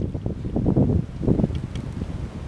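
Wind gusts through winter woods beside Shelburne Bay, a steady rough rumble that swells and eases in waves, with faint creaking and groaning from a dead tree sliding against the tree grown around it.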